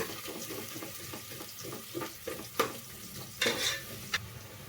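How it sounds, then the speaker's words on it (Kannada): Long-sliced onions fry in hot oil for kushka rice, a steady close sizzle broken by stirring scrapes and a few louder metallic clinks of a spoon against the pot. "ಉದ್ದುದು ಕಟ್ ಮಾಡ್ಕೊಂಡಿರೋ ಆನಿಯನ್ಸ್ ಹಾಕಿ ಫ್ರೈ ಮಾಡಿ, ಚೆನ್ನಾಗಿ ಬ್ರೌನ್ ಕಲರ್ ಆಗೋ ತನಕ ಫ್ರೈ ಮಾಡಿ"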